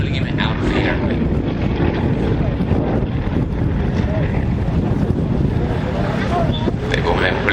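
Aerobatic display planes from the Aerostars team fly overhead at an air show, a steady loud engine roar mixed with wind buffeting that continues without a break.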